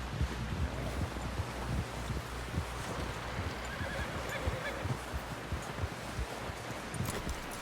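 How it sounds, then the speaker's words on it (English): A horse in the video game Red Dead Redemption 2 whinnies and neighs during a snowstorm, with hooves clip-clopping steadily beneath the calls and wind in the background, fairly close. "Someone help John down off this horse"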